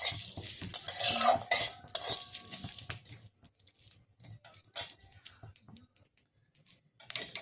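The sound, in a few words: stirring whole cumin, coriander and fennel dry-roasting in pan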